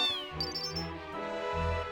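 A cat meows in the Final Fantasy 8 Remaster video game, a drawn-out high call followed by softer mews over steady game music, close and clear with no talk.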